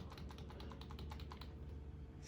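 Computer keyboard keys pressed repeatedly on a Dell OptiPlex 3020 desktop to enter the BIOS, a quick run of close, crisp clicks with no talking.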